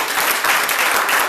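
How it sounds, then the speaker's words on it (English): A round of applause from a gathered audience for students celebrating the end of a school year, a short burst of dense, even clapping. "Can we get them a round of applause for them?"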